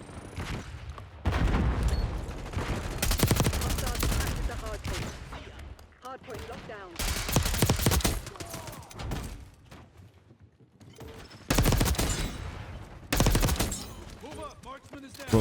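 Rapid XM4 assault rifle fire in Black Ops 6 rings out in several loud automatic bursts separated by short lulls, mixed with other game sounds.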